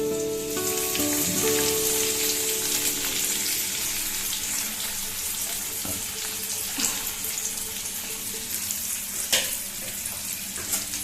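Garlic and onion fry in hot oil in a pan, a loud, steady hiss with crackle throughout and a few sharp clicks from utensils near the end.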